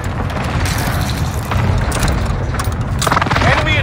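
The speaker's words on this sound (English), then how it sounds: "Enemy precision airstrike." Airstrike blasts rumble in a Warzone match, a dense, loud low-end roar of explosions with mechanical clatter building toward a heavier burst near the end, no talking.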